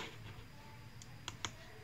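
A few faint, sharp computer mouse clicks sound in quick succession on a Windows 10 PC while sound settings are opened, over a quiet room hiss.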